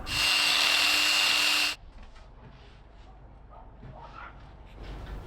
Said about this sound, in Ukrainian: свердлимо отвір для світлячка